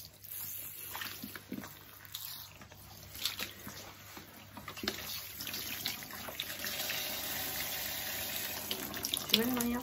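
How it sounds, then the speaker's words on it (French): A faucet runs into a sink as a mud face mask is rinsed off, a faint, continuous splashing stream with small shifting splashes, heard alone at low volume. "Et là, on rince le masque de boue."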